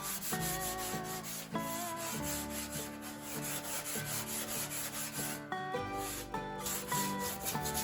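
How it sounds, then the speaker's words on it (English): Sandpaper rubbing the rough saw-cut edges of foam board indoors, repeated close rasping strokes in a steady back-and-forth rhythm, loud and alone. "Sanding the edges helped a bit to clean up the rough cuts of the saw."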